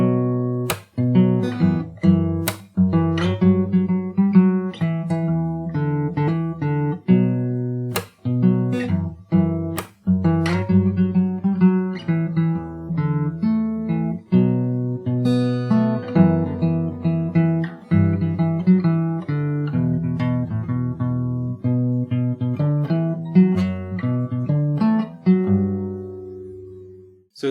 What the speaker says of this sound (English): After that you have the second verse,